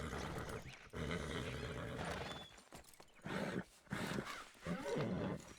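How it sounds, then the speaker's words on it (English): Horses in the Red Dead Redemption 2 video game whinny and snort in several loud, close bursts, with hoof clatter between the calls. "But we'll at least free the horses."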